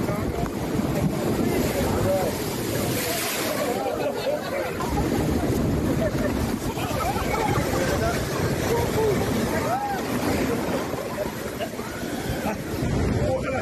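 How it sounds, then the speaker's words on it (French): Big waves surge and crash at Saint-Malo at night under heavy wind buffeting the microphone, with a continuous roaring wash and voices talking over it. "On a vu des images qui montrent d'importantes vagues à Saint-Malo dans la nuit de samedi à dimanche 20 octobre"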